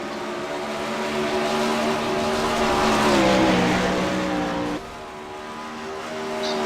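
A dirt-track race car of around 850 to 900 horsepower in the iRacing sim, its engine droning loud and steady, rising slightly as it revs on a short track, then dropping in pitch near the end.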